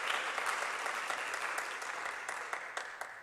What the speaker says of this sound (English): So we're going to clap for her.